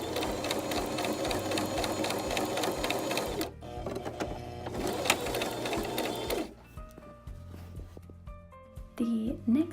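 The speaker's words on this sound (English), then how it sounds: "you're going to make a seam from the top to the bottom," A sewing machine stitches a seam in small doll-dress fabric, its rapid rhythmic whirring running in bursts with brief pauses, close and clear, with a voice speaking near the end.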